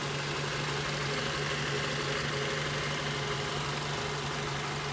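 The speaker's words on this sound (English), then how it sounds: "this vehicle is currently running, as you guys can tell, nice and smooth running engine" A 2007 Mazda 3 with a 2.3-liter four-cylinder engine idles steadily and smoothly, heard close up from the engine compartment as a constant low hum with no talk.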